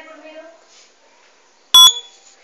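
A loud, sharp electronic beep from a smoke alarm sounds once, briefly, after a stretch of quiet talk and faint background noise.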